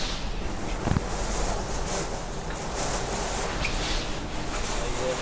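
During a typhoon, water pours down like a waterfall in a steady, dense roar with no pauses, mixed with wind noise.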